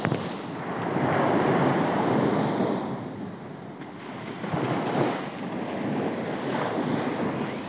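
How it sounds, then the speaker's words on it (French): Ocean waves roll onto the shore in steady, broad surges that swell and recede, with wind buffeting the microphone and no voices present. "puisque nous sommes ici, devant les vagues"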